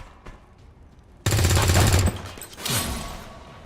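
A loud, abrupt burst of automatic weapon fire in XCOM 2: War of the Chosen erupts after quiet, rattles for under a second, then a second swell of impact and debris noise follows.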